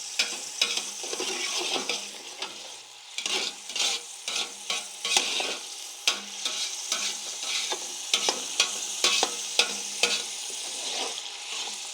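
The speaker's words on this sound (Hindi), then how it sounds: "प्याज को फ्राई करते हैं" Onions fry in ghee with a steady sizzle while a spoon stirs and scrapes the pot in repeated irregular strokes, close and clear, no talking.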